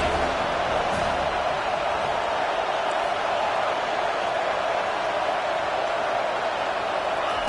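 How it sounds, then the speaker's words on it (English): Stadium crowd in an NCAA football video game, TCU versus FSU: a steady, dense roar fills the whole span at an even level, with no clear talking over it. "Third down, and this crowd is tearing the lid off this place."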